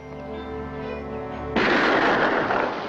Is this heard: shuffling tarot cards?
no